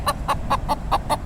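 A wild rooster on a beach gives six evenly spaced, clear clucks, close and fairly loud over low background rumble.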